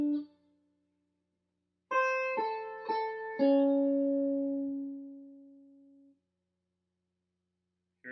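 A clean, beginner-paced guitar line, the second phrase of a song, follows a short note with four picked notes, the last held and fading, played close with no other sound.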